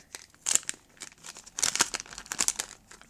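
A small cellophane pouch being handled up close for packaging a mini keyring notebook, giving bursts of crisp crinkling and rustling that come and go with short pauses in between.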